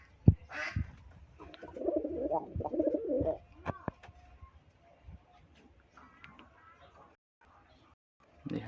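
Rajshahi Giribaz pigeons coo in soft, low rolling phrases close by, while someone talks over them throughout.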